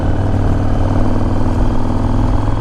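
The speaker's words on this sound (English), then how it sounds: "You got a big engine." A 2006 Yamaha Stratoliner 1900 motorcycle with its big V-twin engine idles steadily, a loud, continuous low rumble with an even throbbing pulse and no talk.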